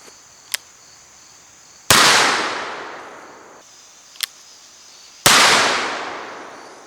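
Two loud, sharp reports from a .44 caliber Dragoon revolver, each ringing out and fading over about a second, fired a few seconds apart. A small click or tick comes just before each shot.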